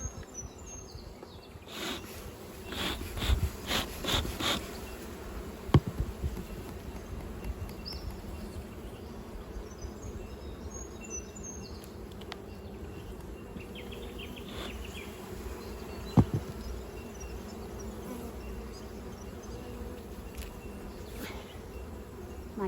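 Honey bees hum steadily around an open hive during a swarm-prevention inspection, a close, continuous buzz with occasional nearer fly-bys and faint bird calls in the background.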